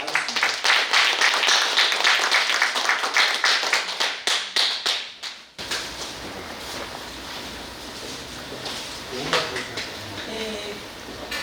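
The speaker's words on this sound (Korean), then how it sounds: "따뜻한 박수로 김미연님 모시도록 하겠습니다." An audience at a Korean book launch event gives warm applause as a guest is invited to speak. A few seconds of dense, close clapping are followed by a sharp drop into room noise and faint talk.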